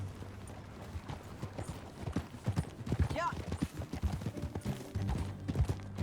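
Horse hooves clip-clop steadily while riding in Red Dead Redemption 2, a quick even rhythm heard close under game dialogue and a brief spoken reply, with a short neigh-like rise partway through.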